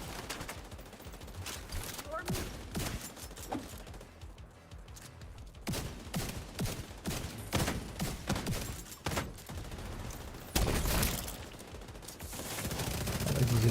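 Rapid video-game gunfire crackles in repeated bursts and volleys throughout, fairly loud and dense, with a sharp louder burst near the end.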